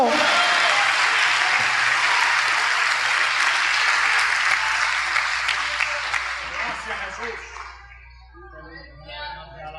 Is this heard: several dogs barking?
no